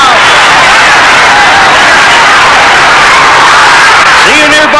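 Loud, dense crowd cheering and applause at a Toyota Corolla winning a braking test in a car commercial, a continuous roar filling the whole stretch with a rising whistle-like tone near the end.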